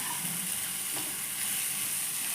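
Onions sizzle and fry in a pan with a little salt, a steady close hiss of frying with faint stirring, no voices.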